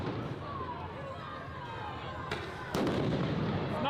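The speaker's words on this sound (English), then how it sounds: "They're already deploying flashbangs." Flashbang grenades go off at a street protest on a highway, a sharp broadband blast near the end followed by louder sustained crowd noise, with a continuous roar and chatter of voices throughout.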